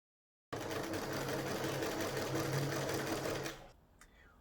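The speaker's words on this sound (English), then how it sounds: "you're going to stitch about 2 centimetres down from the top along that" A sewing machine stitches along a fold of fabric in a steady, close, rapid whirring run of about three seconds, then stops, followed by a faint click or two.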